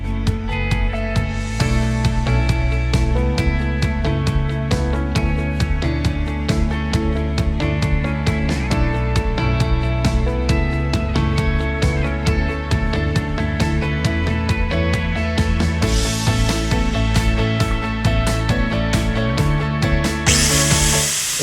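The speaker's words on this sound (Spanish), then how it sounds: "Ahora sí ya estamos preparados para hacer agujero." A power drill bores a hole at a 45-degree angle with orbital movements, producing a loud, steady motor whine with rhythmic pulsing throughout and a sharp change in tone right at the end.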